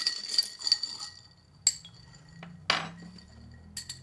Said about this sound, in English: We give this a stir.